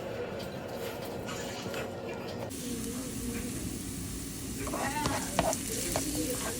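Garlic and ginger sauté in a hot pan with a steady, moderate sizzle and occasional stirring scrapes, the frying hiss continuous and close throughout.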